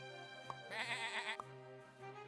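Sheep bleat in the video game Super Auto Pets, a clean synthetic baa with a wavering middle, set over steady game music with small click accents.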